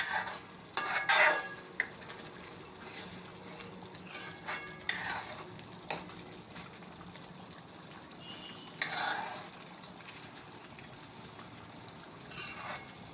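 Spoon stirring ground coriander, cumin and garam masala through a cashew and garlic curry in a pan over low heat, with scraping strokes in bursts, a light sizzle and occasional clinks against the pot.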